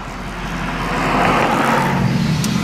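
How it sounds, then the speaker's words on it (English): A car engine with a sputtering, flatulent exhaust note passes close by outdoors, a loud, rough rumble that builds over the first second and then holds steady, alone with no speech. "That car sounds like it's farting."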